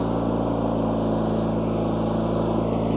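A John Deere 316 garden tractor engine runs at full power on half choke for snow removal, a loud, steady, even drone with a strong low hum, close and continuous with no talk.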